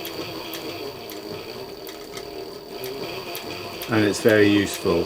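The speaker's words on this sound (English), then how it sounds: "So I'm using an edge guide here to actually get a nice consistent row of stitching," A sewing machine stitches a leather wallet along an edge guide, giving a steady, rapid mechanical patter under the room's background, and a person speaks briefly near the end.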